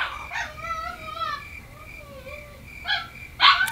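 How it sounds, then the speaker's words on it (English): A dog outside gives a few short high whimpers and yips with whining glides between them, fairly close and brief. "Oh my god, the dog's outside."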